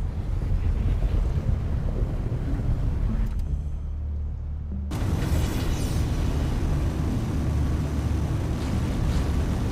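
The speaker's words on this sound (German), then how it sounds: "Oh nein, eine Windpassage." Rushing wind in a wind passage in the space game Everspace 2 roars continuously, briefly thinning to a low rumble for about a second and a half before surging back at full, loud intensity.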